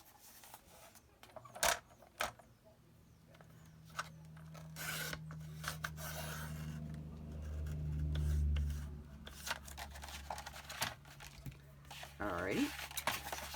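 Paper trimmed by 1/8 inch for a file folder mini album, heard as scattered rasping cuts and rubbing strokes, with a low hum and some brief talk mixed in.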